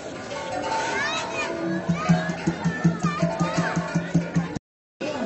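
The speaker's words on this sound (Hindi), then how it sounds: "बहुत भीड़ है यहाँ पर, क्योंकि आज सैटरडे है" Crowds of people and children fill a park on a weekend, with busy chatter and children's voices mixing with music, ending in a brief cut to silence.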